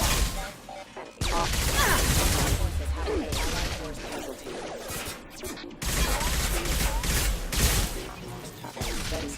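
Gunfire in Mass Effect 2 comes in dense, loud bursts of shots and impacts that keep going throughout, with brief dips between volleys.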